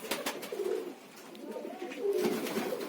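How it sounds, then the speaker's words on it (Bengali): Pigeons in a breeding setup coo softly in low, rolling phrases, two main bouts at moderate distance, fairly quiet with no talking. "খুব ভালো কোয়ালিটির পায়রা আর রোলারের বাচ্চা আছে"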